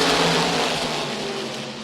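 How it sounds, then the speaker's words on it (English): USAC Silver Crown champ cars roar off at the green flag start at Lucas Oil Indianapolis Raceway Park, a loud, dense, continuous wash of racing engines that stays close and fades slightly over the short stretch. "Here come the Silver Crown Champ Car Series live at Lucas Oil Indianapolis Raceway"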